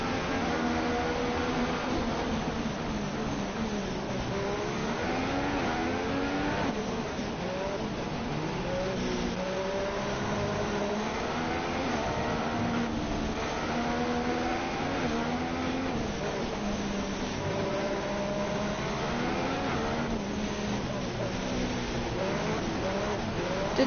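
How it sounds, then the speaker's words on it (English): Formula One race car in a video game at Abu Dhabi, engine droning steadily with shifting pitch as it runs at speed, continuous and fairly close with no talk over it. "I'm in a race car, or a Formula One car."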